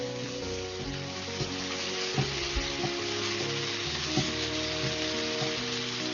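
Double cheeseburger patties topped with cheese fry in a pan, giving a steady, close, dense sizzle with a few soft pops and crackles throughout.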